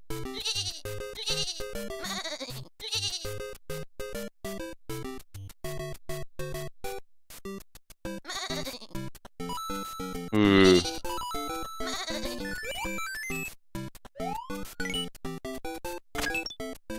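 Repeated sheep bleats ring out through a dense, chaotic mix of game music and effects in a video game level, loud and layered, with occasional squeaky tones.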